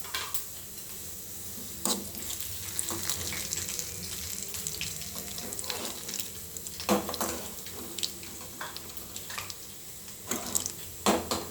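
Mustard seeds, cumin and ajwain crackle in hot oil for peanut chutney, a steady close frying hiss broken by sharp pops and spits throughout, with no voices.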